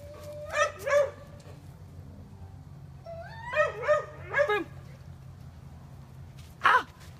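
A dog under electronic collar obedience training gives several yips and short whining barks, two at first, then a quick burst of three, and a final sharp yelp, close by over a low steady background hum.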